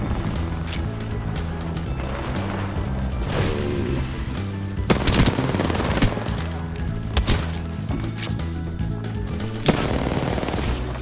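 Hip-fired gunshots in Apex Legends crack in rapid bursts over a pulsing game soundtrack, with several loud sharp volleys spaced through the stretch and no talk over them.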